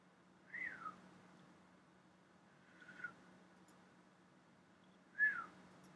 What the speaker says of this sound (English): I'm trying to whistle and failing.